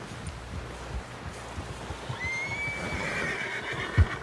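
A horse in Red Dead Redemption 2 lets out a drawn-out neigh midway through, over quiet rustling and hoof sounds, ending with a sharp thump.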